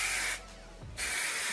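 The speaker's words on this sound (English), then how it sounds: "And I'm just going to spray that" Eva NYC dry conditioner sprayed into dry curly hair: two close, loud bursts of aerosol hiss, separated by a short pause with a faint rustle of hair.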